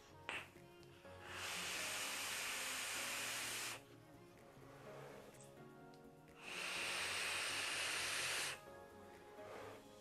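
Airy hiss from draws on a Hellvape Rebirth dripper atomizer: two long, steady pulls of several seconds each, separated by quieter pauses, close and fairly loud.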